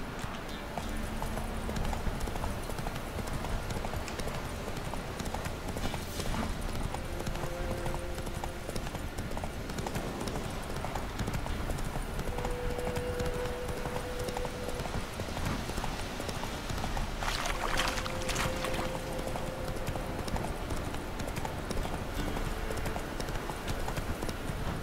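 Horse hooves clip-clop at a steady trotting rhythm in The Witcher 3, a continuous close patter running throughout over an ambient game backdrop with faint brief tones.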